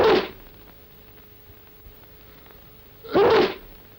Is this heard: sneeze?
yes